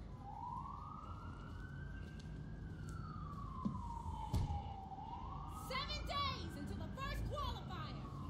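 A police siren from the street-racing game Need for Speed Unbound wails in a long rising and falling sweep under steady engine and game noise, with brief chirps near the end.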